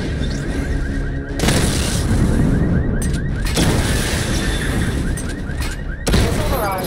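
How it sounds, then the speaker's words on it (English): A missile barrage destroys targets in Batman Arkham Knight: dense rolling volleys of booming explosions and rapid fire, in heavy bursts broken by brief lulls, with a repeating electronic beeping tone running underneath. "Destroy targets to charge up weapon energy and activate missile barrage."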